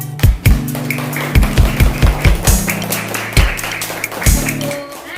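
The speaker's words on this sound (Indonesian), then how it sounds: "Tepuk tangan." Students at SDN 38 Pontianak Utara clap for a classmate after a presentation: a short, close burst of uneven claps and thumping taps, with voices in the classroom speaking underneath.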